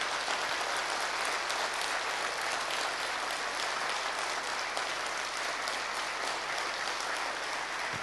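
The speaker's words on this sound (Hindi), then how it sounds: "खड़े होइए और जितना अच्छा लगा उतने गड़गड़ाहट के साथ में तालियां बजाइए।" A standing audience claps continuously in a thunderous, even roar of applause at a Bhagavad Gita spiritual gathering, loud and unbroken with no voices over it.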